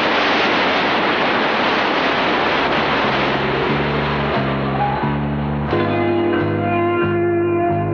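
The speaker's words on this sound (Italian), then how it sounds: "È una cascata." A mountain-valley waterfall pours with a loud, steady rush, close and continuous, while a sustained musical tone rises in beneath it toward the end.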